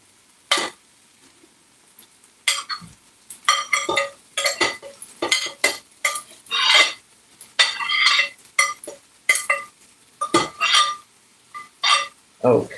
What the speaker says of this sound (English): And now I'm adding the onions, and I have a lot of it.